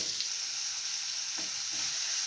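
Onions, tomatoes and curry leaves sauté in a pan for chutney, giving a steady close sizzle with a few soft stirring scrapes, no voices.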